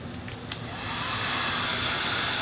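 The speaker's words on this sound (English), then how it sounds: "So we're gonna kick the heat gun on low." A heat gun, used to remove stickers from a motorcycle, switches on at its low setting with a click and settles into a steady, close blowing roar like a hair dryer.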